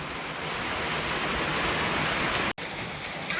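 Heavy rain falls steadily in a strong storm with wind, making a loud, dense, continuous hiss that drops out for a moment near the end and then resumes.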